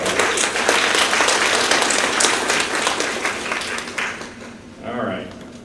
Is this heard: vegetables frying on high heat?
no